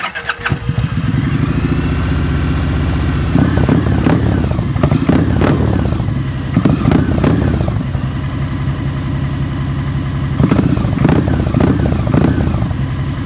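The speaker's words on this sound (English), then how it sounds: "this V-twin engine sounds pretty sweet. Take a listen to the 2023 Kawasaki Vulcan Vaquero." A 2023 Kawasaki Vulcan Vaquero V-twin motorcycle engine idles with a lumpy, loping rumble, then is revved in several bursts that swell and fall back to idle, loud and close with no talking.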